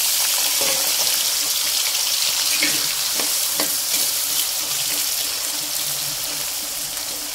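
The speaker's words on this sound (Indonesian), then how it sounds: "Selanjutnya, saya sudah panaskan minyak," Sliced potatoes frying in hot oil, a steady bright sizzle throughout with a few faint clinks and stirring sounds, no talk.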